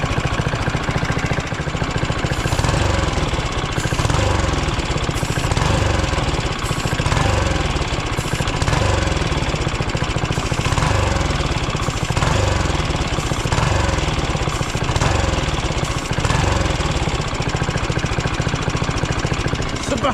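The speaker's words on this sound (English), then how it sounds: "I'm gonna spray some ether into the turblet, and the motor should rev up" Turbocharged car engine running hard after ether is sprayed into the turbo inlet, a loud, rough, continuous drone with rhythmic pulsing surges and knocking throughout, no talking.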